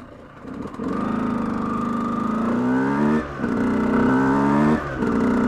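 A car drives into a city centre, its engine holding a steady drone, then revving and shifting with stepped pitch changes, close and continuous.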